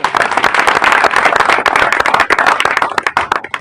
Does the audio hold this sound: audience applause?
yes